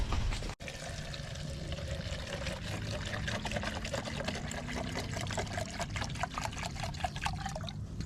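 Old fuel from an 80s dirt bike pours out in a steady, close liquid stream that splashes and trickles continuously, with a brief thump near the start.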